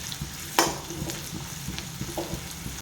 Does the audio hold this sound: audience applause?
no